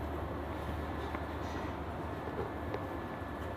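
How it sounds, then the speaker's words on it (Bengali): A general-class passenger train carriage running on Indian rails gives a low, steady rumble with faint rattles, quiet and continuous throughout. "এই হচ্ছে আমাদের ট্রেন"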